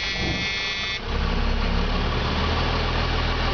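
A 2000 Freightliner FL grain truck engine cranks briefly, then catches and settles into a steady, loud diesel idle with a deep rumble and vibration.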